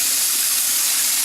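Cold water running from a kitchen tap into a sink, a steady, loud, unbroken hiss and gush close by with no voices.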